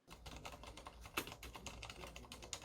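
Typing on a mechanical keyboard fitted with silent red linear switches produces a quiet, steady patter of soft, muted keystrokes, close and alone with no talking.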